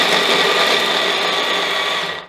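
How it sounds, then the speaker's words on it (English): A food processor blitzes chopped carrots and celery in one loud, steady whirring burst that holds constant for about two seconds before cutting off abruptly. "I think there's enough space in there to get the celery as well. Now I'm going to blitz it."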